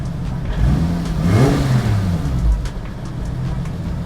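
A Nissan S14 with a swapped 1JZ engine and CD009 gearbox drives and revs, its engine note rising and falling through a gear change, loud and close from inside, with no talking.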